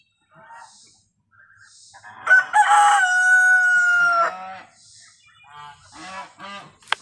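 A rooster crows loudly with a long sustained call, surrounded by chickens clucking and squawking nearby.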